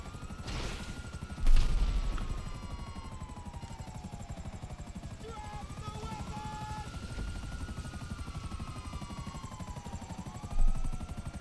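A helicopter in GTA Online, its rotor a steady droning thump throughout, with a couple of sharp crashing bursts over it.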